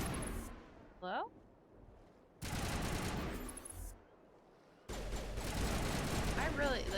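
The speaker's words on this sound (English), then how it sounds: "They just be shooting." Sustained bursts of gunfire rattle in Mass Effect Legendary Edition, three loud dense stretches of rapid shots separated by quieter gaps with a brief synthetic tone.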